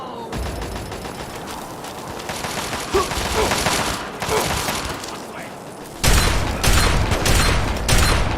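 Trench shotgun fire in Fallout 3, with loud repeated blasts through a dense, busy stretch of combat noise that turns heavier near the end, with no clear pauses.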